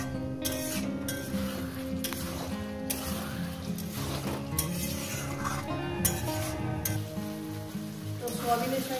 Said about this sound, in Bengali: সয়াবিন দিয়ে আমি আরও 2 মিনিট কষিয়ে নেব মশলার সঙ্গে।